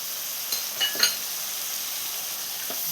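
Chopped medium tomato stirred into a sizzling Kerala-style fish curry base with coconut milk in a pan, a constant frying hiss with a few quick clinks of a spoon against the pan.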